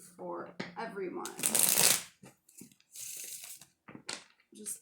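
Tarot cards are shuffled by hand in quick riffling and sliding bursts, close and clear, interleaved with a person talking quietly between and over the shuffles.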